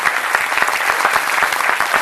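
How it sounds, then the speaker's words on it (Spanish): Loud, steady applause from an audience at a university talk on feminism and patriarchy, dense overlapping claps filling the whole moment with no voices on top. "un fuerte aplauso"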